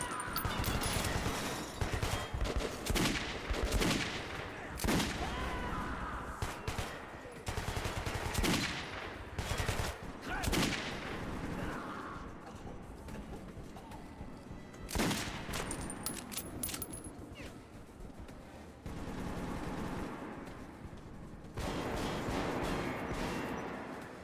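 Gunfire in Metro 2033 Redux, with loud bursts of rapid shots and impacts coming in clusters and short gaps of game ambience between them.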